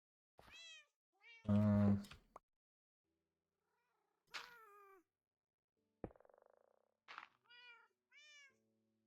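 A house cat meows several times in short separate calls, close and clear, one louder drawn-out cry near the start, with quiet pauses between.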